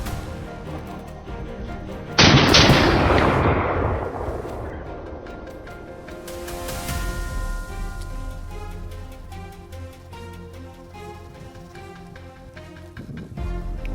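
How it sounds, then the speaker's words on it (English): A single loud rifle shot fired at a wild boar during a farm hunt, cracking sharply and then rolling away in a long, fading echo with faint ambience after it. "Without hesitation, he adjusts his rifle's aim and squeezes the trigger."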